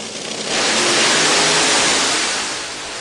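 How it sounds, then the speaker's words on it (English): Drag racing hot rod engines roar loudly at Pacific Raceways in Kent, Washington, during a National Hot Rod Association event, a close, sustained blast that swells after a brief lead-in and slowly fades near the end. "Engines roared at Pacific Raceways in Kent, Washington, as National Hot Rod Association drivers anxiously wait for their chance to race down the track"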